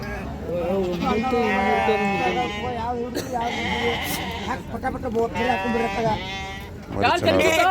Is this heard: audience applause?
no